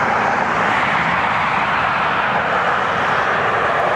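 Jet airliner engine roar near Cleveland Hopkins airport on a calm, warm night, a steady, loud, broadband rumble and hiss that holds without a break throughout.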